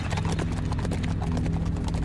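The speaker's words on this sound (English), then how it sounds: "they galloped off toward Shaolin" Horses galloping, a dense, fast clip-clop of hooves with a brief whinny, loud and close, running continuously without pause.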